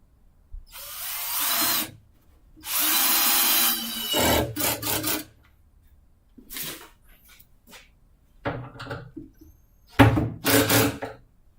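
Power drill driving screws into wood during a home building project, several loud bursts of whirring separated by pauses, with clicks and handling sounds between runs and no speech.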